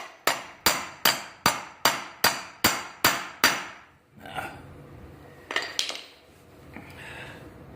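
A hammer, turned sideways, strikes a car's tie rod boot on a Mitsubishi EVO/DSM. Nine sharp, evenly spaced metallic taps ring out close and loud, followed by quieter fumbling and clinks.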